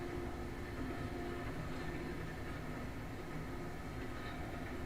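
A steam-era locomotive in the railroad video game Railroads Online rumbles and rolls along with a steady, muffled low drone that stays fairly quiet and even, with no voices.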